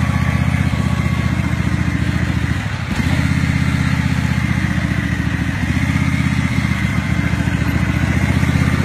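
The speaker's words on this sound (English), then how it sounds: "learning the basics of garden tractors" A garden tractor engine runs steadily and loud up close, a continuous low chugging drone that dips briefly near the three-second mark, then resumes at the same even idle-like pace.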